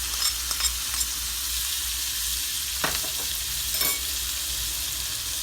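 Chopped garlic, ginger and onion frying in oil for homemade peanut sauce give a loud, constant hissing sizzle, broken by a few brief stirring scrapes.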